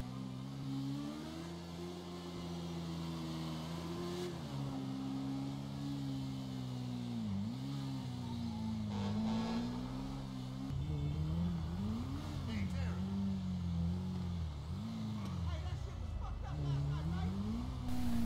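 A Zamasso motorcycle ridden in GTA V on a getaway, a steady buzzing engine drone that rises and dips with throttle changes throughout, with someone talking over it at times.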